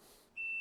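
An aquarium controller's sound alarm gives a single sustained high-pitched electronic beep, clear and close, starting abruptly after a quiet moment and holding steady.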